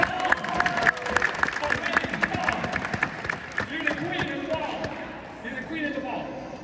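Audience at a retailers summit panel during New York Comic Con bursts into applause, claps and scattered cheers near the start, while someone speaks over the crowd and the clapping fades out.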